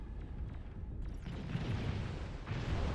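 Torpedo bombers attack in a real-time strategy video game, a dense rumbling roar of overlapping explosions and booms that swells midway and stays loud throughout.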